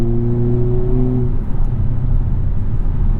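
A 2022 Hyundai Kona N exhaust drones steadily and loudly, its tone shifting partway through as revs change, with a low rumbling note throughout.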